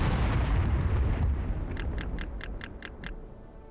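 A World War II tank gun fires in the video game Second Front, one heavy booming blast that fades over a few seconds, followed by a quick run of sharp, evenly spaced clicks.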